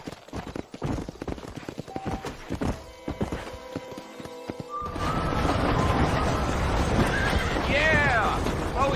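Horse hooves clip-clop at an irregular pace as the horse runs in the Red Dead Redemption video game, then a sustained, louder wash of movement and wind with a whinny near the end; a voice speaks briefly.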